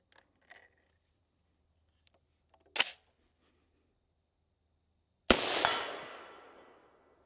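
A PSA Sabre-10 rifle in 6.5 Creedmoor with a 14.5-inch barrel cycles its action: a few faint mechanical clicks, one sharp metallic snap, then a single loud, abrupt report that rings out and fades over about two seconds.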